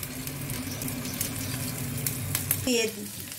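Whole garam masala and ginger paste fry in hot oil, a steady close sizzle with stirring scrapes, then a brief louder burst of spattering near the end.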